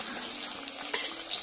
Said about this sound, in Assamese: এতিয়া দি দিম মাছৰ মূৰাকেইটা